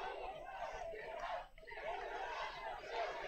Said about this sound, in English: We can hear the crowd.